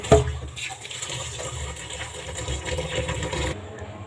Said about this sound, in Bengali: এখন এগুলোকে ধুয়ে নেব, ভালো করে কষে কষে ধুয়ে নেব।